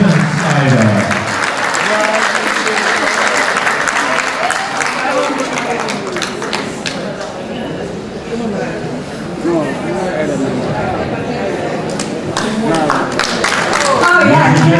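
Audience at an award ceremony applauding an actress of the year winner, sustained loud clapping with crowd cheers and chatter, and voices speaking over the applause throughout.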